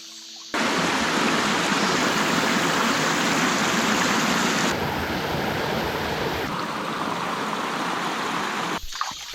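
A mountain river stream, running lower than it used to, rushes loudly and continuously close by with a steady, unbroken wash of water and no voices.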